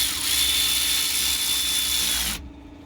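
A power tool whirs steadily for a couple of seconds, tightening carrier bearing bolts on a 2003 Nissan Frontier, then cuts off abruptly into quiet.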